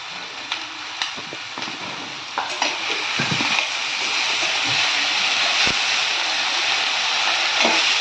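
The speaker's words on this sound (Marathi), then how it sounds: "आता शिमला मिरची आणि बटाटा टाकायचा." Capsicum and potato pieces dropping into a hot pan, a few sharp knocks followed by a rising, steady loud sizzle with occasional stirring clatter.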